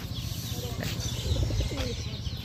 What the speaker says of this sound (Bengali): পায়রাটা একবার দেখে নাও তোমরা, অসাধারণ কিন্তু পায়রাটা